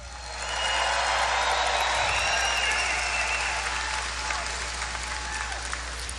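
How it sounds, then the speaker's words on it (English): A large crowd at a Donald Trump rally in Melbourne, Florida breaks into loud, sustained applause for the commissioner, a dense wash of clapping and cheering that swells quickly and holds steady from a distance. "Big round of applause for our commissioner."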